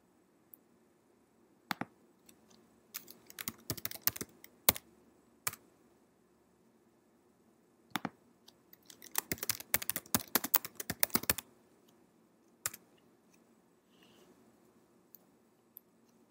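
Keys tapped on a computer keyboard while a folder name is entered, heard as close, crisp clicks in scattered bursts and short flurries separated by quiet pauses, with no talking.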